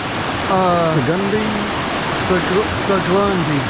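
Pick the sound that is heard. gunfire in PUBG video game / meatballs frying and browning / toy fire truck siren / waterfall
waterfall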